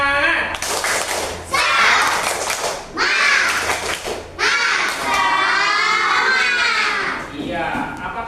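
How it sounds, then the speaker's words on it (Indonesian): Schoolchildren in a classroom do a rhythmic spirit clap, bursts of loud group clapping in patterned beats mixed with shouted chanting voices, pausing briefly between phrases. "tepuk semangat."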